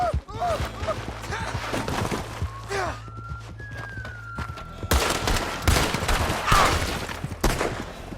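Gunfire in the Red Dead Redemption video game: repeated sharp shots and bursts crackle through a busy fight scene, with a whistling tone and other game effects mixed in, fairly close and loud.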